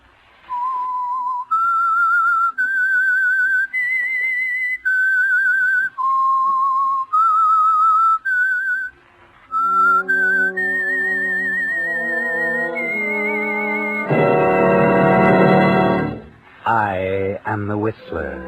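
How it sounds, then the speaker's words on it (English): A person whistles the eerie theme melody of a radio mystery drama, a slow sequence of clear sustained notes, then an orchestra swells with a loud chord near the end before a few more notes follow. "That whistle is your signal for the Signal Oil Program"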